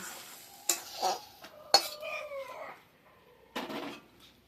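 A utensil scrapes and knocks against a pan as cooked teasel gourd filling is lifted out after the gas is switched off, giving a few sharp clinks and soft scraping strokes with quiet gaps between them.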